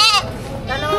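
Two female goats bleat in a wavering, close cry among the noise of a livestock market, with people talking in the background.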